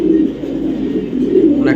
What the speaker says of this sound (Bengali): নটটা ডাক দেখতে চান, ডাক দেন কি পরিমাণ ভয়ানক, পাগলা ডাক মারে